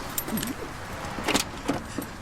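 Car keys jangling as they are handed over, a few short metallic jingles and clinks in quick bursts, close by against quiet background noise, with no speech.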